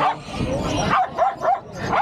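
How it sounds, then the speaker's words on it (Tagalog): A dog barks in a pet shop selling affordable animals, a few short barks and yips mixed with light background chatter and noise. "Kailang aso yun?"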